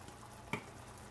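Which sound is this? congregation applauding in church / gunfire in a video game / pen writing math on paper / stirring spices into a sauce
stirring spices into a sauce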